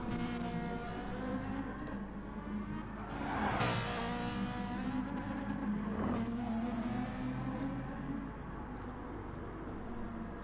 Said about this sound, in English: I can literally hear Fub's car racing up behind Racer Tay now.